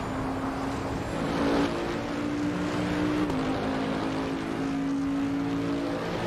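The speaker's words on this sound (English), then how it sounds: "Nice sound out of that Bentley." A distant Bentley engine in a racing video game drones steadily, its pitch shifting slightly as it revs and settles, with no talking.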